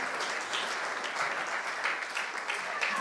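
An audience at an in-person UK sales awards night keeps clapping for the winners, a continuous, fairly loud patter of many hands throughout.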